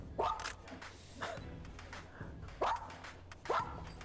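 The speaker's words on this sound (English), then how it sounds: "Pretty good bark." A dog barks four times at irregular intervals, sharp and fairly close, over a quiet room background.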